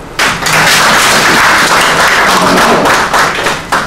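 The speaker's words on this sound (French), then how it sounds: "Applaudissez pour les mêmes" An audience in a meeting hall at a general assembly breaks into loud, dense applause, many hands clapping together steadily and close for several seconds with a few heavier thumps.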